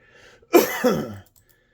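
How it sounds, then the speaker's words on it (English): A single close, harsh cough burst followed by a short throat-clearing rasp, then quiet. "Excuse me, I got the coffee coughs."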